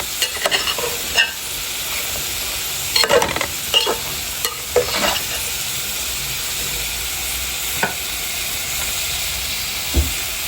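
Spices sizzle and fry in a pan as a utensil stirs them, a steady close hiss broken by several sharp scraping clatters against the pan.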